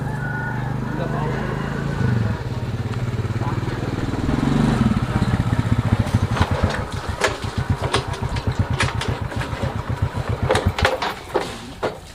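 A motorcycle engine runs close by, a low steady rumble that turns into a fast throbbing beat as the rider pulls away and rides on, with some voices over it.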